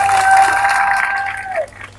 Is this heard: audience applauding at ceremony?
yes